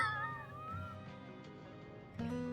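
A cat meows in the video game Zenless Zone Zero, a short drawn-out mew followed by a second brief call, faint and alone.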